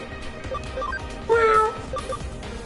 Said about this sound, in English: He just meowed right there.